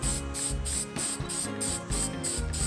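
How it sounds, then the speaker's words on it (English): Short bursts from a spray can laying blue paint lightly on a wooden LADA logo, a close hissing spray in regular pulses with brief gaps between. "here we're gonna go ahead and spray this blue"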